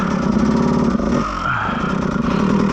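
Beta 200RR enduro motorcycle revving loudly and continuously on a hard enduro trail, its raspy engine note surging, dipping briefly, then climbing again with clattering mechanical noise throughout.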